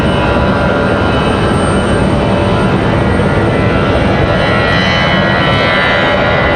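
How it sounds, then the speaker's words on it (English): An Airbus A319 jet departing Raleigh Durham airport: a steady, loud broadband roar fills the whole stretch without letup, dense and continuous with no voices over it. "Good sounding A319 departure."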